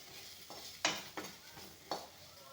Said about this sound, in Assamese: অলপমান ভাজি ল'ম ৰং গুড়াখিনি পিঁয়াজ জলকীয়াৰ লগত